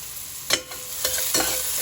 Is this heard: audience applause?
no